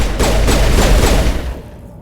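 A quick burst of rapid gunfire in the Mass Effect video game, several loud, close shots cracking in quick succession before fading out.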